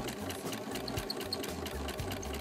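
Sewing machine stitching quilt binding strips, a steady rapid mechanical whir with rhythmic needle clatter running close and continuous throughout.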